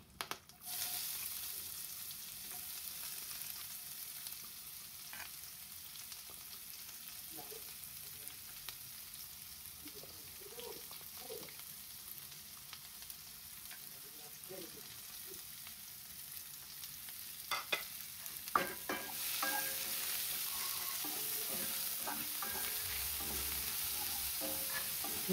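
Onions with whole garam masala spices frying in a pan for a beef tripe bhuna, a faint steady sizzle with occasional stirring scrapes, growing brighter and louder in the final stretch.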